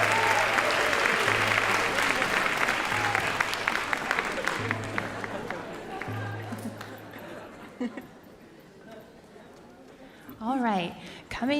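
A crowd claps warmly for a child at a Celebration 2026 stage program. Steady applause runs for several seconds under a droning tone, then fades out into a quieter room where a voice begins speaking.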